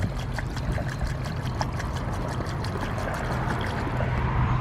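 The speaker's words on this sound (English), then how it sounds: "locate the coolant radiator, go ahead and fill it up all the way to the top" Coolant trickles and pours steadily into the radiator of a 2009-2014 Yamaha R1 motorcycle, giving a continuous close watery splashing with no voices.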